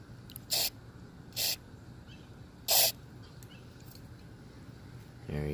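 Three short, sharp bursts of aerosol dry lube hiss into a stuck chrome fuel door on an NB Miata, separated by pauses, close by against a quiet background.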